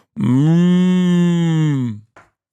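A voice gives a long, loud, deep moo in imitation of a cow, held steady for nearly two seconds, then a short grunt right after.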